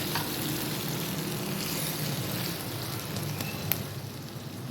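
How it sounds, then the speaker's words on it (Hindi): Beef pulao sizzles and fries steadily in a pot, a constant close crackle with faint stirring clicks and no voices. "तो अब इसको मैं पकाऊंगी 5 मिनट और मैं इसको कवर कर दूंगी।"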